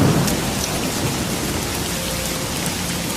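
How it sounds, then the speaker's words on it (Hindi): Heavy rain lashes down in a dense, steady hiss with thunder rumbling underneath, a continuous loud storm soundscape with no voices. "बारिश तेज हो गई"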